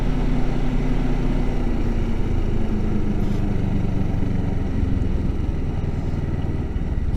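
A motorcycle engine drones steadily while riding in second gear around a corner, a loud, continuous rumble with constant road and wind noise and no gear changes.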